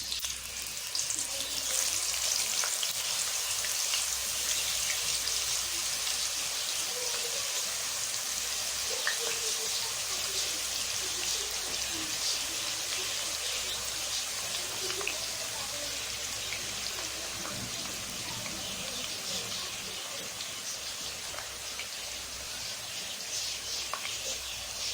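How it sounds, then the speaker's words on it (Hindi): Potato chips frying in hot ghee in a handi over a normal flame, a dense, steady hiss of bubbling oil, close and unbroken for the whole stretch. "मैंने चिप्स डाल दिए इसमें और ये देखना अभी घी गर्म है और इसमें जो है ये फ्राई होना शुरू हो चुके हैं।"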